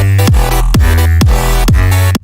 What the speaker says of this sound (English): So the kick sounds like this.